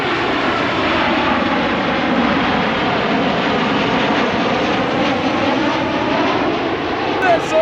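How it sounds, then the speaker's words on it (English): A Virgin Australia airliner flies in low on its landing approach in Western Australia, its engine roar loud, steady and broadband throughout, with a faint voice briefly under it. "I'm just going to go out wide and try and get a shot of the plane coming in low as it goes to land."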